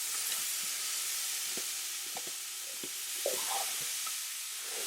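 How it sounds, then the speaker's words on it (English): Garlic and finely chopped mushrooms cook in a pan with a steady loud sizzle and hiss, broken by occasional scrapes and clicks of stirring, with no voices. "This is going to cook down for a decent amount of time, so I'm just going to get everything in the pan at the same time."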